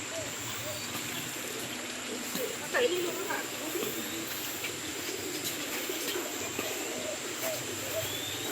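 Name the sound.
pigeons cooing in a park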